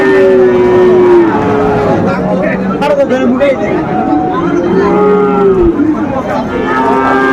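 Sahiwal cattle moo loudly and repeatedly nearby at a Mymensingh farm, long drawn-out bellows rising over a busy crowd of voices chattering in the background.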